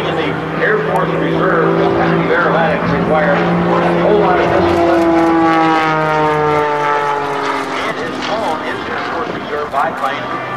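Pitts S2C aerobatic biplane flying at an airshow, its propeller engine a loud, steady drone with rising and falling pitch sweeps as it maneuvers, with a voice talking over it throughout.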